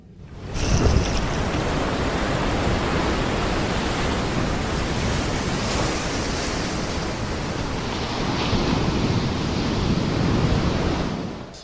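Ocean waves break against coastal rocks in a continuous loud roaring wash that swells slightly near the start and again toward the end, with no voices.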